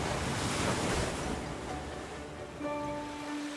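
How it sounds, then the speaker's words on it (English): Soft, steady ocean-like rushing heard when a seashell is held up to the ear, a broad airy wash with faint wind-like swells and no talking. "I hear the ocean."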